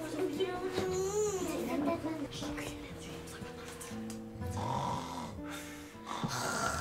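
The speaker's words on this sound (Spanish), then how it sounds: "Están roncando y todo." People asleep in a home snore with rhythmic, low rasping breaths. Children's voices and chatter sound faintly over and between the snores.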